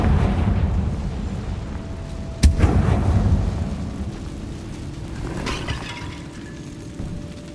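A Confringo blasting spell exploding in the Hogwarts Legacy video game: one sharp crack at about two and a half seconds, followed by a dense rumbling roar that fades slowly over several seconds, loud and heavy in the low end.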